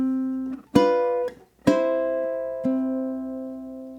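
Ukulele strummed in a bar of quarter notes, with four evenly spaced chords ringing out clearly and close, the last one left to sustain.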